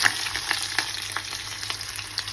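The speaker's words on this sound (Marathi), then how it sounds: "आपण खडा मसाला टाकलेला आहे आणि मध्ये कांदा टाकतो आपण" Chopped onion hits hot oil with whole spices for a mutton curry, giving a steady, close sizzle with light stirring clicks and scrapes throughout.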